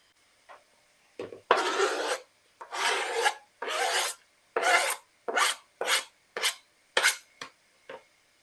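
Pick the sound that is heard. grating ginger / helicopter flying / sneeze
grating ginger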